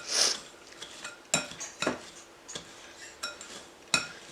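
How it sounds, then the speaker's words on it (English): A pastry cutter works sugar and butter into pea-sized crumbs for a pecan streusel topping on sweet potato casserole, giving intermittent metal clinks and soft scrapes against a bowl. "mixing the sugar in and the butter into pea-sized pieces"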